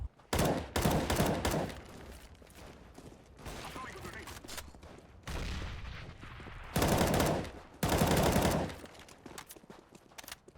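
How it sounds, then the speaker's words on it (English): Rapid sniper rifle shots from the CS:GO game ring out in several loud, sharp bursts, with quieter stretches of game ambience between them and no talk. "Here's another one of those insanely fast shots"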